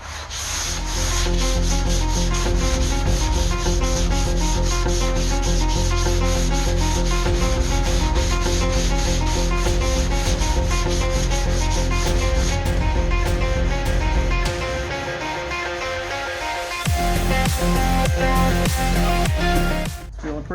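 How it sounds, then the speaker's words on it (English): A 120-grit sanding block works over the body panels of a 1967 Camaro in a continuous, loud, steady rasp of rapid back-and-forth strokes, close up and uninterrupted, with a brief change in rhythm partway through. "we'll go over it with 120 with this block, just to get all those 80 scratches out"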